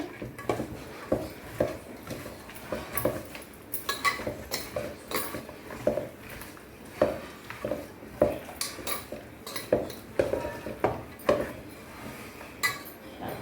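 Chicken being stirred with ginger garlic paste in a pot, steady rhythmic clinks and scrapes of a metal spoon against the pot, repeated many times at close range with no talking.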